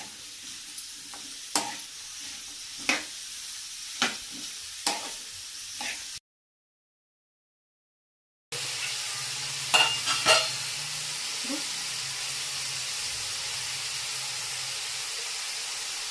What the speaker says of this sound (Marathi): आता याच्यामध्ये आपण कांदा आणि मिरची थोडी परतून घेऊया